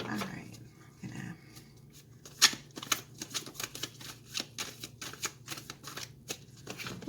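Tarot cards being shuffled by hand, a run of crisp riffling snaps and flutters repeating in quick bursts at close range, with quiet background murmurs and a soft low hum underneath.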